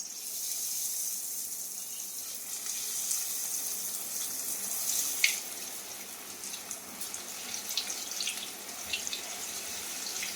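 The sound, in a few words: chicken chops deep-frying in hot mustard oil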